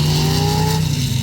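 A Corvette and an old Chevy launch at the start of a drag race, loud engines roaring and revving together at close range in a steady, dense blast of engine noise.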